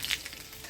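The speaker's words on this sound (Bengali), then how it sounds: "আম ডালে ফোড়ন দিয়ে দিচ্ছি শুকনো লঙ্কা আর সরষা।" Dried red chillies and mustard seeds tempering in hot oil for Bengali mango dal, a soft crackle with a couple of sharper spits and pops, faint and close.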